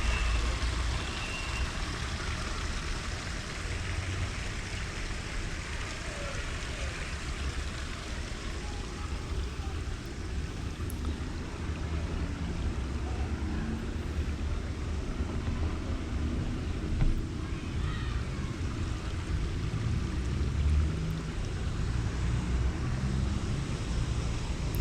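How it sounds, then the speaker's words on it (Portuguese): Water flows steadily through the forest of a municipal city park, a constant broadband rush with no breaks and no voices. "Esse barulho da água é muito gostoso de ouvir."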